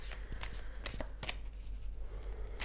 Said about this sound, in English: Is there anything else they want for me to shuffle the cards?